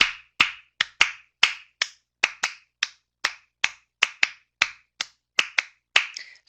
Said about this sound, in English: I get them to clap out a kind of samba rhythm like this.